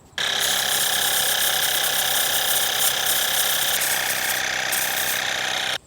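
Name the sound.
foam sprayer nozzle spraying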